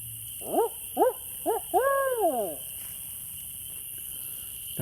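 An owl hoots near a campfire: three short hoots followed by a longer wavering call, fairly close and clear over a faint steady insect hum.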